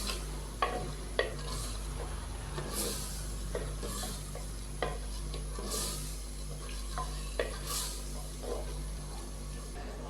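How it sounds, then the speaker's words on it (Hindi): Chana dal being stirred into fried masala in a pan, village dhaba style, with soft scraping strokes and a few sharper spoon knocks over a low, steady sizzle and background hum. "दाल डालने के बाद मैंने इसको अच्छे से मिक्स कर दिया है।"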